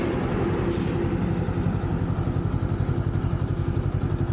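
Honda NX 500 motorcycle idling along in first gear without throttle, a steady low pulsing engine rumble with rhythmic thumps, close and continuous, no talking.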